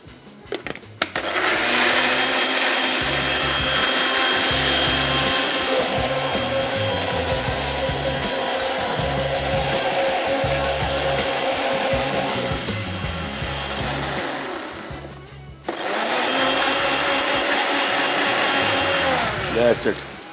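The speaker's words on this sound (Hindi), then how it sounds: "इसके बाद इसको करते हैं ब्लेंड।" Blender whirring through green chutney of coriander, green chillies and vinegar or lemon: a loud, steady motor drone for about thirteen seconds, a short pause, then a second loud burst.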